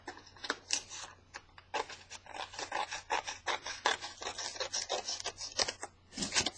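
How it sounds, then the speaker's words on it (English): Paper being trimmed for a handmade school-themed mini album, a steady series of dry rasping cuts and rubbing strokes, close and fairly quiet, with no talking. "So I'm going to go ahead and just trim this down a tad."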